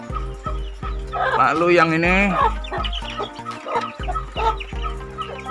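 Young Katuranggan Sisik Naga chickens, about three to four months old, cluck and chirp repeatedly in a pen, loud and close, with a person speaking briefly over them.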